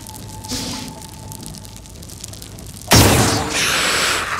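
Grenades explode in the turn-based strategy game Xenonauts: a small pop comes first, then a loud booming blast with a hissing, crackling tail, with no talk over it.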